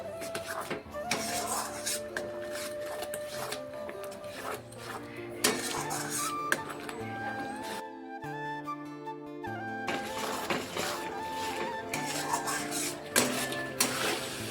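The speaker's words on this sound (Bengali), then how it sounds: "মশলা থেকে যতক্ষণ না তেল ছাড়ছে, মশলাটা ততক্ষণ অবধি ভালোভাবে কষে নেব।" Spice masala being sautéed in a pan for Bengali chicken kosha, heard as steady spoon scraping and clinking against the pan with a soft background hum, continuous and close.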